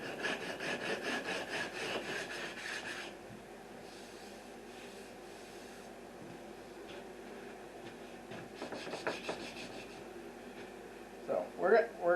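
Rhythmic scraping strokes of a felt-lined radius block sanding an acoustic guitar fingerboard, quiet back-and-forth rubbing in bursts with a pause in between, close and soft.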